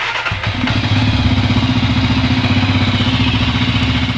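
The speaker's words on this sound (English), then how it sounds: "we're going to go ahead and let the bike idle for 2 to 3 minutes. Let's start it up." A Janus Halcyon 450 motorcycle fires up after a quiet moment and falls straight into a loud, steady idle with a fast, even thump, close by and alone.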